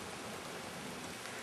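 Steady rain falling in a Mario Kart Double Dash themed skit, a soft, even hiss of dense drops with no breaks, faint and continuous.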